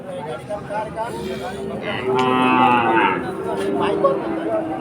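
A loud, drawn-out cow moo rises over the noisy Chuknagar cattle market, with people talking in the background throughout.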